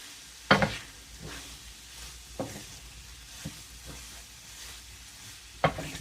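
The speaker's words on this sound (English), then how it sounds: "I'm going to mix up the chicken a little bit here." Chicken sizzles steadily in a hot pan while a utensil scrapes and stirs in a few distinct strokes, close up, with no talking.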